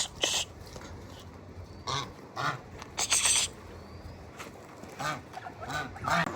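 Ducks quacking and honking in short bursts close by, several calls overlapping with brief pauses between them, over a steady outdoor background.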